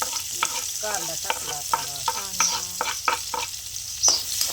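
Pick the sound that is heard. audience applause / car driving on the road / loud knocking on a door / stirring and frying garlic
stirring and frying garlic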